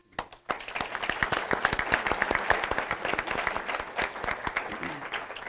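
An audience at a clinical laboratory science white coat ceremony breaks into applause after a short pause, with distinct individual claps standing out in a lively, moderately loud burst that continues throughout.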